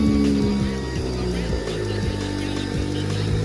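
A rebuilt Nissan S13 engine with a Cometic head gasket and ARP head studs runs steadily at idle, a loud, close, even mechanical drone with a rhythmic pulse and no talking.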